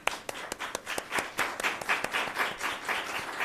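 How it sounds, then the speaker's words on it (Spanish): Steady audience applause at a business investment workshop event in León, a crowd clapping continuously at moderate volume with sharp individual claps in a fairly even rhythm. "Y ahora os pido para Fele un gran aplauso"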